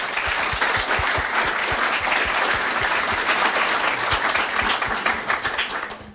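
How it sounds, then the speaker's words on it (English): Audience applauding after a talk at the iPres 2022 digital preservation conference, a dense steady round of clapping from many hands that holds loud and unbroken throughout. "Round of applause, please."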